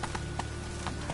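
Hooves of Roach, the horse in The Witcher 3 on PS5, clop in a steady galloping rhythm, a run of evenly spaced thuds at moderate level over a constant low background hum, with no voices.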